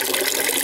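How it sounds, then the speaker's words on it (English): Maple sap poured through a cheesecloth filter into a container, a steady close splashing and trickling of liquid with no voices. "I just pour it in the top of that and let it filter through"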